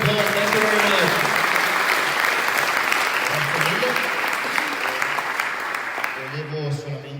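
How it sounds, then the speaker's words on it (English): An audience claps at a tech event held in an aircraft hangar, with sustained, full applause that slowly thins out, while a voice speaks over the start and again at the close. "A big applause, thank you very much."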